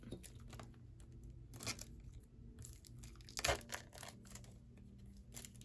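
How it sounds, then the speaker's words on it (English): Cellophane wrap torn and peeled off a new Modern Witch tarot deck, a few sharp crinkling rips close up against quiet room tone, with no talking. "Taking off our cellophane."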